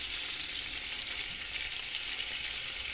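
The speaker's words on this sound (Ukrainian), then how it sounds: "кинула масло на пательничку" Butter sizzling in a frying pan while making a quick breakfast, a steady close hiss that holds unbroken from start to finish.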